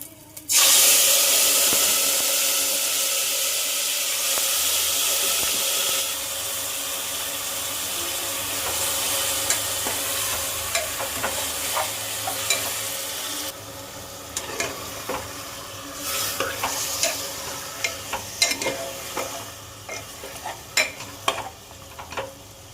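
Mutton dropped into hot oil with chopped green chilies, a loud burst of sizzling that settles into steady frying, followed by stirring clatter and scraping in the pan.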